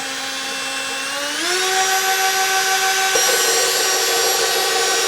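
Close, loud power drill whine that climbs in pitch as it speeds up, then holds a steady high drone, with a brief knock partway through, while widening a hole for a marten box.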